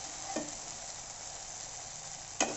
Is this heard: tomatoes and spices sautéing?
yes